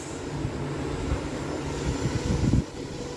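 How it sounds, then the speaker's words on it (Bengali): A small handheld electric fan runs at high speed close to the microphone, giving a steady airy whir with rough wind buffeting that swells briefly near the end. "খুব সুন্দর পাখা এটা। আমার তো অনেক ভালো লেগেছে, আমার চুল দেখো কি করে উঠছে। অনেক হাই স্পিড"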